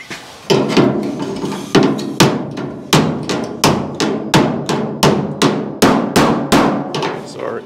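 Sharp hammer blows ring out on the metal body of a 1968 Chevrolet Camaro, about fifteen strikes in a fairly steady rhythm, close and loud, with no talking.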